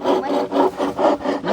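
A hand saw cuts through wood while a house is being built, with about seven steady back-and-forth strokes in an even rhythm, close and loud.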